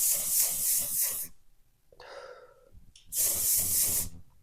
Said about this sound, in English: before I put on my mascara, I like doing my setting spray